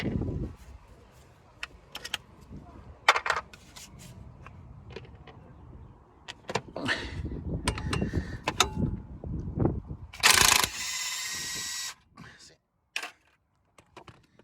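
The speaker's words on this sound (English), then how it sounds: "Next up is to undo this pinch bolt." Mechanical clicks and ratcheting taps from a ratchet undoing a 15 mm pinch bolt on the front strut of a Ford Mondeo Mk4, in short bursts with pauses, close up, with some faint background talk.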